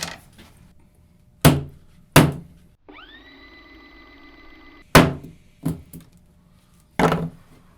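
Several hard hammer blows beat a steel dagger blade flat, sharp isolated impacts spaced irregularly with a brief ringing metallic tone between them, close and loud in a quiet workshop.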